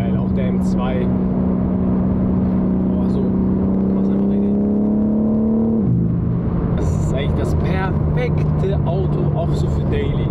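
A BMW M3 Touring with a DD exhaust drones loudly under hard acceleration, its pitch climbing steadily before a sharp drop at a gear shift, then pulling again while people talk over it inside the car.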